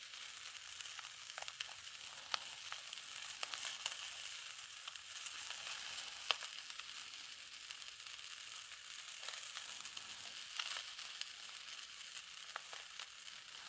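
A sous vide filet mignon searing in a hot cast iron skillet, a steady, close crackling sizzle with scattered pops and spatters throughout, no voices.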